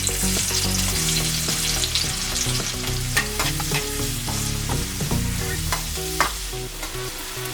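Onions frying in hot oil as the base of a dhaba-style egg curry, a dense continuous sizzle with occasional stirring scrapes and taps, close and loud, with no talking.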